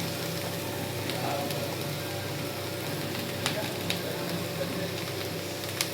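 Cut mushrooms with a little turmeric sizzle in a small pan, a steady moderate frying hiss with a few faint clicks, and speech in the background.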